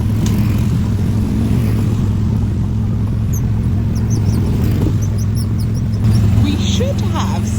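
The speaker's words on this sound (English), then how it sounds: "We're going to go for a little Monday drive round Autopia." An Autopia ride car at Disneyland Paris drives along with a steady low engine rumble up close, continuous throughout, with faint chirps above it.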